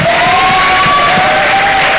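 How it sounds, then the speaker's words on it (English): Audience applause at a national exhibition event, a loud, steady wash of many hands clapping with some cheering mixed in, continuing unbroken for a couple of seconds. "Give yourselves a round of applause."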